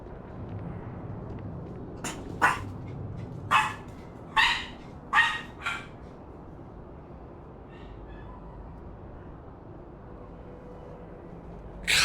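A dog barks five times in a quick, loud burst near the middle, with a faint rustle afterward, inside a sci-fi game scene with low background ambience.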